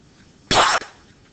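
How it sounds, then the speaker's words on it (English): A single loud, harsh cough bursts out close by, lasting about a third of a second, with a brief fainter tail and quiet room tone around it. "I'm going to cough. I'm sorry. It's going to be loud."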